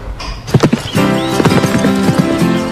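Horse hooves clop a few times up close, followed by a loud, drawn-out neigh with a wavering pitch.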